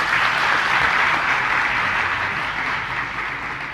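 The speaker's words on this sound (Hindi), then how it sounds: "बजाओ जोर से ताली" A large audience at a Jain religious discourse claps loudly and steadily, a dense, continuous wash of hands that holds strong throughout and eases only slightly toward the end.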